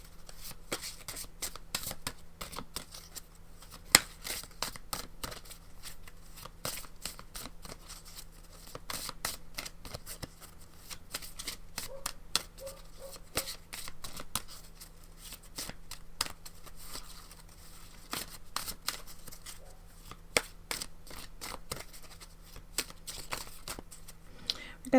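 Oracle or tarot cards are shuffled and handled, making soft, crisp riffling and flicking over a low steady hum, with scattered taps, close and fairly faint throughout.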